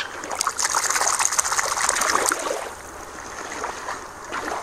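A toy walrus is set back into water, giving a short splashy trickle and sloshing that fades into quieter dribbling.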